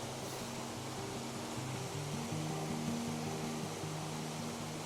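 Buttermilk Falls gives off a steady, even rush of falling water, a constant wash with no pauses and no voices.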